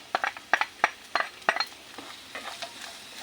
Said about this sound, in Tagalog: Ngayon po, magigisa na po tayo ng bawang.